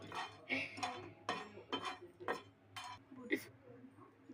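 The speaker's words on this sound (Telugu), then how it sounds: "ఈ గరిటతో కలుపుదాం" A ladle stirs food in a pan on a home stove, giving a string of soft metallic scrapes and clinks at an uneven pace, close by and fairly quiet.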